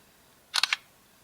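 An LG G2 smartphone camera fires its shutter after a voice command, a crisp synthetic click-clack of three fast snaps heard alone over near silence.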